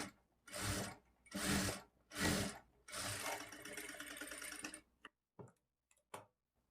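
A sewing machine stitching a lining blouse runs in three short close bursts, then in one longer steady run, followed by a few faint clicks and taps.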